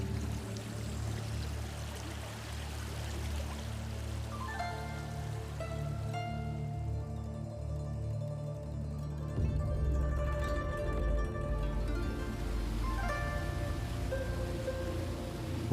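A mountain stream flows through a valley at Mount Zhongnan, making a steady pouring rush of water that grows fuller partway through, with soft sustained tones over it.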